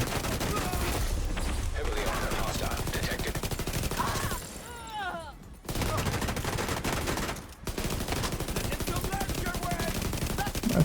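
Dense video-game gunfire, sustained automatic bursts loud and close, briefly dropping out twice, with other game sound effects mixed in.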